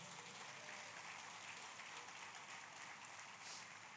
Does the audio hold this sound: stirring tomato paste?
no